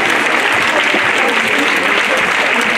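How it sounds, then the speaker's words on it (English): Audience at a film festival screening of "Women of 1915" bursts into dense, loud applause that holds steady throughout with no let-up. "Let's have one more round of applause."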